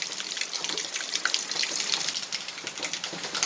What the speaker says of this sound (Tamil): கொஞ்சம் எண்ணெய் ஊற்றிக்கலாம்.